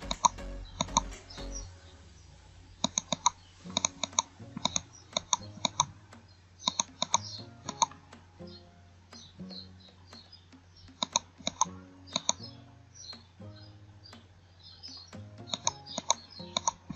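A computer mouse clicks in scattered single and double taps on a desk, close and crisp over a faint low hum, with quiet gaps between bursts and no talking.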